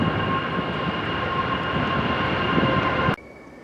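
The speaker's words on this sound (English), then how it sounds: "If we don't get run over by this train." A train rolls past loudly and steadily near a roadside stop with a 2019 Toyota Land Cruiser, its broad rumble and a high whine holding for about three seconds before cutting off abruptly.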